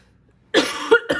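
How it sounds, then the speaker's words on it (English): A single person coughs twice in quick succession after a moment of near silence, close and fairly loud. "I felt the need to cough"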